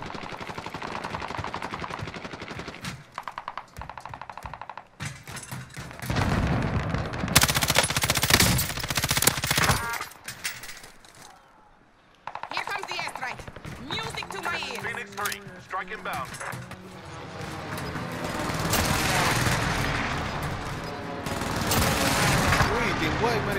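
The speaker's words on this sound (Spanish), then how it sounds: "Me están disparando a la casa camper." Bursts of automatic and single gunfire in a Call of Duty match, loud and close, repeated through the scene with a brief quiet gap, while a player's voice talks over it at times.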